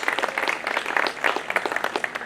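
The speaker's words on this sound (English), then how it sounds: "the great presence of the class of '79 there, who certainly deserve their own applause" Audience applause honoring the class of '79 at a celebration event, a lively burst of many hands clapping with uneven peaks, close and fairly loud, with no talk over it.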